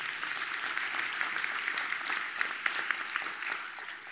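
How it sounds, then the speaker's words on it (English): Steady audience applause fills a college commencement ceremony, dense clapping holding level throughout with a few sharper claps standing out near the end. "If we could give them a round of applause"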